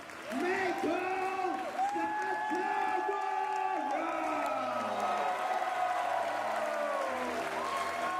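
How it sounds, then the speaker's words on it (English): A wrestling crowd at an SPW show in Singapore applauds Meiko Satomura of Sendai Girls Pro Wrestling on her debut, with steady, loud clapping and cheering throughout, overlaid by a voice talking. "And a resounding round of applause here for Meiko Satomura making her debut here at SPW here in Singapore."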